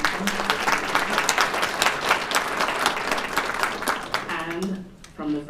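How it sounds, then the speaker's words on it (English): An audience at a French Legion of Honor medal ceremony applauds with steady, dense clapping that tapers off near the end, as a voice begins speaking. "Please give a round of applause for our singers, Rebecca Russo"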